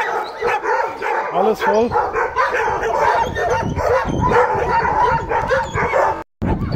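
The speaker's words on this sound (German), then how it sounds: "Hier, also eine richtig große Hundezwinganlage auch." Many dogs bark, yip and whimper continuously at a large kennel facility, a dense, loud chorus with someone talking over it.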